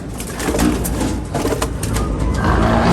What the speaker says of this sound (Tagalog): Mga kalapati nating off color yan.